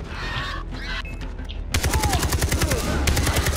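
A mounted gun turret in Far Cry 3 opens up mid-clip with rapid, loud, evenly spaced bursts, following a stretch of quieter game ambience and faint voices.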